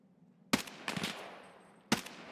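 Three sharp sniper rifle shots crack out in Escape from Tarkov, spaced unevenly over a couple of seconds, fairly loud with a short echoing tail and no talk.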